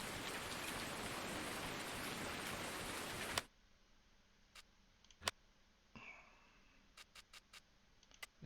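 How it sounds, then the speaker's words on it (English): Heavy rain in Farming Simulator 19 pours as a loud, dense hiss for a few seconds, then drops sharply to a faint patter with scattered clicks as the volume is turned down. "Let's turn that rain down a bit. It's a bit noisy, isn't it?"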